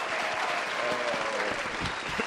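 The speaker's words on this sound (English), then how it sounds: "Everybody, please give a big round of applause for Matt Campbell." An audience at a comedy show applauds, steady dense clapping from a crowd, fairly close and moderate in level, brief.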